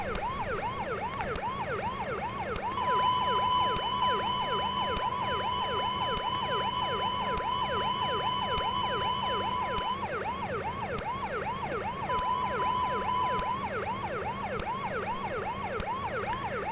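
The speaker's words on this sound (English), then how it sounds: "Why am I hearing a siren?" Ambulance siren in the Prepar3D flight simulator game, a steady repeating wail cycling throughout at moderate level, with a constant tone sounding over parts of it and no talk.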